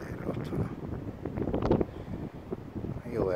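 Gusty wind buffeting the microphone outdoors, a rough low roar that swells and fades, with a voice faintly speaking underneath.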